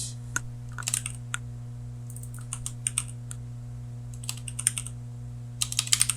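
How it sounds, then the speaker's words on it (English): Computer keyboard typing, heard close up as scattered bursts of quick key clicks separated by short pauses, over a steady low electrical hum. "I'm typing the wrong keys as of the moment"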